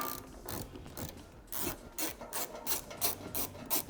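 A hand ratchet removes a bolt from below the taillight on a 2021-or-later Ford Bronco, giving up-close bursts of rapid clicking that repeat in a steady rhythm, with no voices.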